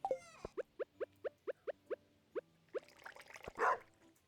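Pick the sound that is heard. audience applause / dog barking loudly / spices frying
dog barking loudly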